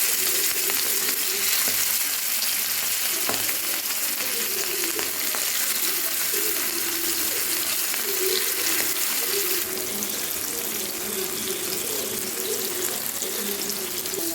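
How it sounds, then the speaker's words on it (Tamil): Fish coated in masala fries in hot oil on a dosa pan, giving a steady, loud sizzle and crackle that runs throughout with small bursts of spitting. "இப்போ எப்படி ஃபிஷ் ஃப்ரை பண்ணுறதுன்னு பார்த்துக்கலாம்"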